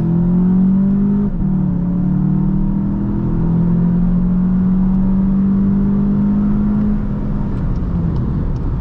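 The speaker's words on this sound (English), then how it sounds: "we're gonna give it some gas" A 2023 VW Jetta GLI engine hums loud and close on the autobahn, its pitch climbing steadily as the car gathers speed, with a brief shift partway through.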